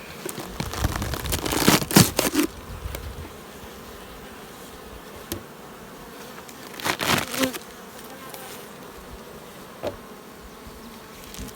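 Honeybees buzz around an open hive during a swarm-season inspection, loud close bursts as insects pass near at first and again midway, with quieter humming between.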